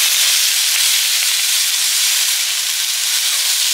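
Leafy greens dropped into a hot pan of oil, giving a loud, continuous sizzle and hiss that holds steady from start to finish.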